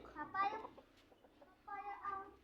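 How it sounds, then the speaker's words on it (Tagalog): Two bursts of chicken clucking close by, separated by a short quiet gap with faint background noise. "Ito naman, yung mga manok"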